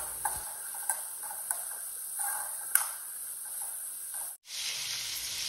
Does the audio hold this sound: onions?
yes